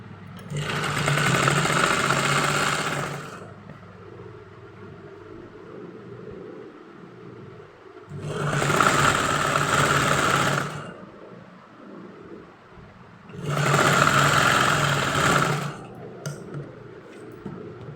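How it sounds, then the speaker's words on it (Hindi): A sewing machine stitches the sleeves of a kurti in three loud, steady runs of a few seconds each, with quieter pauses between the bursts. "ये बराबर से सिलाई चला दूंगी इसमें"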